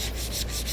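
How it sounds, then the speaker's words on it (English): Sandpaper scrubs back and forth over the surface of a PVC skeleton in quick, even rubbing strokes, soft and close with no voices. "I use some little sandpaper just to roughen up the surface a little."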